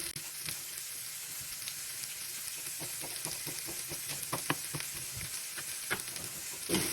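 Leftover barbecue meat fries into a pan kavurma with peppers, sizzling and hissing steadily while a spatula stirs and scrapes at intervals, heard close.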